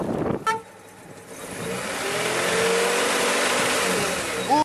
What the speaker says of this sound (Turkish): Korna yapalım.